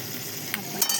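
Onion and tomato softening in a pan, a steady soft sizzle with a couple of brief scraping stirs, close and moderately quiet.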